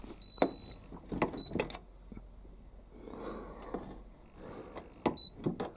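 Indesit IS60V tumble dryer starting up, with the drum turning and rumbling loudly amid clunks, whirring and mechanical knocks close to the listener.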